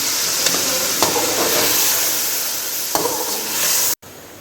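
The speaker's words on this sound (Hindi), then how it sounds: "अब 3 से 4 मिनट कर देंगे अच्छे से भुनाई" Ground spices including coriander powder, garam masala and cumin powder roasting in a pan for beef yakhni pulao, a steady close sizzle with a few sharp stirring scrapes, cutting off abruptly near the end.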